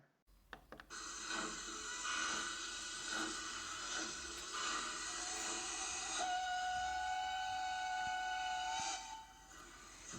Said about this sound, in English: The train is now leaving the interpretation station.